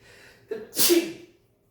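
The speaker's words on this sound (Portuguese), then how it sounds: "é incrível como toda aula tem um espirro padrão básico" A single sharp sneeze during a lecture, preceded by a quick intake of breath, close and fairly loud, followed by quiet.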